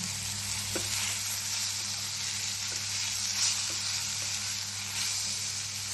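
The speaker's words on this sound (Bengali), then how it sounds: "এটাকে সুন্দর করে ভাজা ভাজা করব।" Steady sizzle of small tengra catfish frying in a hot pan, with a few soft clinks of stirring, close and continuous, no talking.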